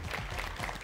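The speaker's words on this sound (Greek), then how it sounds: "σταμάτα τα παλαμάκια" A studio audience claps during a Greek broadcast of Wheel of Fortune, a steady dense patter of many hands that fills the short moment without any talk.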